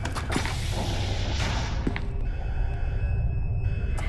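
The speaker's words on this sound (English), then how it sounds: "I heard a door closing somewhere that was closer than those various other distant noises." A door closes somewhere within the concrete halls of SCP: Containment Breach, a creaking mechanical movement that ends in a dull thud, heard over a steady low ambient drone.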